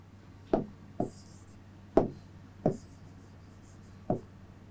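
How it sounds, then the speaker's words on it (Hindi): Chalk or a marker taps and scrapes on a board in short, separate strokes, about six distinct knocks spread over a few seconds, close and fairly faint, with no talk. "कॉसेक लिख रहा हूं"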